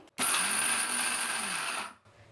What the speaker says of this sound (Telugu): ఇప్పుడు చట్నీ మిక్సీ పట్టేద్దామండి.